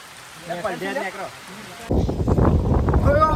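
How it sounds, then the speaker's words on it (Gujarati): Rain on the path up Pavagadh hill to the Mahakali temple comes in abruptly as a loud, dense hiss after a stretch of talking, with voices continuing faintly beneath. "જો આવી ગયો છે વરસાદ"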